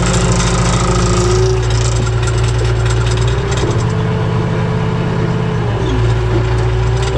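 A backhoe's diesel engine runs steadily and loud up close, its droning tone shifting slightly in pitch and load partway through.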